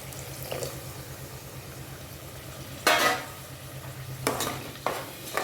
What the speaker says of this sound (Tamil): அரைச்சி வச்ச தக்காளி பேஸ்ட்டையும் போட்டுருவோம்.